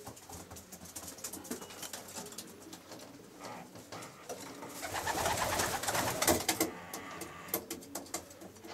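Pigeons cooing inside a breeding loft at a racing-pigeon fancier's place, soft repeated coos amid rustling, shuffling and fluttering movement, fairly faint and close, growing busier midway.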